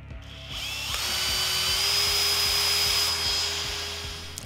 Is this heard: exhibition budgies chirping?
no